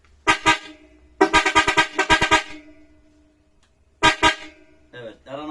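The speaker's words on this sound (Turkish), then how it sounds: "bir adet ufak kafa Mitsuba çat çat korna topladık" A loud Mitsuba car horn blares close up in rapid bursts: a short double beep, a longer run of quick honks, then another double beep.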